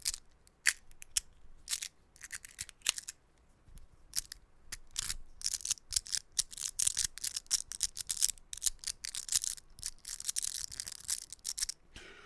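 Dense crinkly rattling with sharp bursts and clicks from a magnetic haptic slider, like ball bearings shaken in a plastic bag, fairly quiet and continuous.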